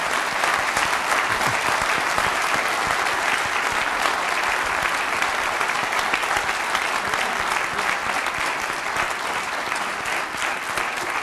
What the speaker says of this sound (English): you can have a round of applause now for Act 1 and 2